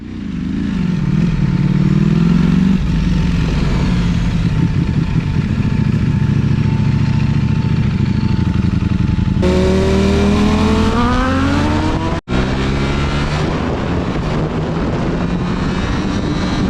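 Sport motorcycles, including a Kawasaki, a Triumph, a Ducati Panigale, BMW S1000RRs and triples, ride past with loud, close engine roar and rising revs, continuous throughout with gear-change swells and no talking.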